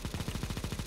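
Rapid automatic gunfire from a spray through a wall in Counter-Strike: Global Offensive, about a dozen evenly spaced, close, punchy shots in under a second, with no talking.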